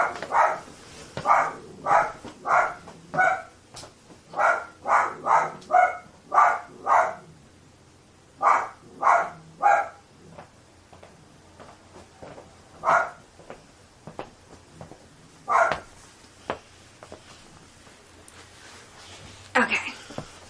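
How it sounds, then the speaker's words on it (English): Dogs bark indoors in rapid bursts, a loud string of sharp barks in quick succession followed by sparser, scattered yips and barks, close by with a person speaking in between. "My dogs are barking."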